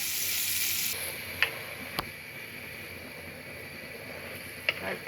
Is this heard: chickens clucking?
no